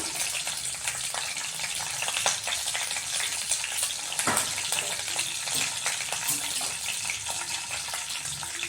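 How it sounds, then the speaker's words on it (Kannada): Mustard seeds, chana dal, urad dal, cumin and fenugreek frying in hot oil for a tempering, giving a steady close sizzle with scattered small pops and crackles, quiet and without talk. "ಸಾಸಿವೆ ಕಡಲೆಬೇಳೆ ಉದ್ದಿನಬೇಳೆ ಜೀರಿಗೆ ಮೆಂತ್ಯ ಹಾಕ್ತಾಯಿದ್ದೀನಿ ಸ್ವಲ್ಪ ಕರಿಬೇವು ಹಾಕ್ತೀನಿ"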